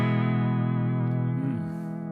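A sustained electric guitar chord wavers with a warbling, watery bubble vibrato effect from an HX Stomp, ringing out and slowly fading over two seconds.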